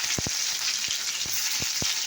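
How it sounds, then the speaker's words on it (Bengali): Long beans, potato and onion fry in hot oil with a steady, close sizzle, broken by a few sharp pops and clicks. "তেল গরম হয়ে গেছে, দেখো বরবটি, আলু আর এখানে পেঁয়াজ দিচ্ছি"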